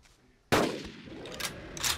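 A single sharp gunshot fired at a dinosaur in the hunting game Carnivores Dinosaur Hunt, loud and sudden, followed by a decaying echo and faint rumbling tail.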